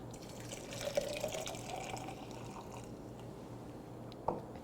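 Liquid being poured into a pitcher of non-alcoholic sangria, a faint, soft trickling stream close by that fades out, followed by a single small clink near the end.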